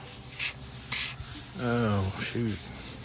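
Deep gouges are sanded out of a fallen hickory slab being made into a table, producing short rasping strokes that come and go, with a brief voice sounding partway through.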